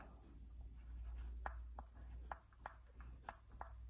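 A pen writes on a paper map of India, marking points and place names. Short, faint scratchy strokes come close up, spaced irregularly over a low background hum.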